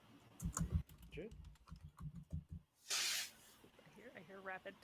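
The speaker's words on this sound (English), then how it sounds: "I hear rapid typing" Quick bursts of keyboard typing, clicky and close, interrupted by a loud hissing spray-like burst, with a voice talking in between.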